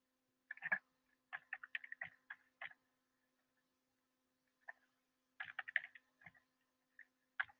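Quick plastic key taps as numbers are entered on a calculator, two clustered bursts of close, light clicks separated by a pause, in a quiet room.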